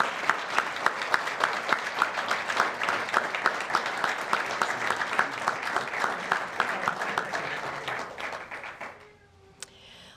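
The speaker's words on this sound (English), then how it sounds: "Let's give them another round of applause." A Veterans Day program audience gives a loud, sustained round of applause with dense, steady clapping for about nine seconds, then it quickly fades to near quiet at the end.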